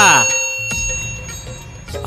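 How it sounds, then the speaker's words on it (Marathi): A bright bell chime rings out and lingers, its tone hanging steadily over a faint voice-like sound. "चॅनलला सबस्क्राईब करा आणि घंटी नक्की वाजवा"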